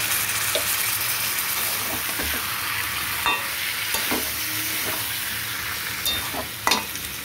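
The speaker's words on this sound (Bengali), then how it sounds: "টমেটো ধোয়া জলটা দিয়ে দিচ্ছি।" Tomato-washing water poured into spice masala frying in a pan for a boal fish curry, a continuous close sizzle and bubbling with scattered utensil clinks and scrapes.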